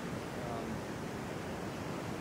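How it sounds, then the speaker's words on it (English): Ocean surf on the shore at Playa Hermosa, Costa Rica, near rocky ground as the waves begin to pick up after low tide; a steady, loud broadband wash of breaking water fills the whole stretch with no pause. "waves are kind of starting to turn on a little bit"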